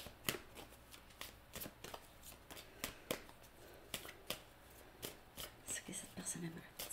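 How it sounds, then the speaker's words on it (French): Tarot cards being shuffled by hand, a close run of crisp riffling snaps repeating in an uneven rhythm, with soft talking under them. "C'est mon mélange de cartes, de ma recette."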